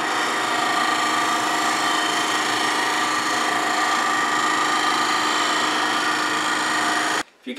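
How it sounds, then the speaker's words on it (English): A wood lathe spins a three-corner bowl while a tool takes light shear-scraping cuts, making a loud, steady whir with a faint scraping texture that stops abruptly near the end. "Now let's try some shear scraping. Handle low, barely cutting on the bottom edge."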